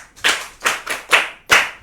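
Five sharp, evenly spaced bursts of clapping ring out close by as an audience at a Yoruba children's programme applauds a child, with no voices.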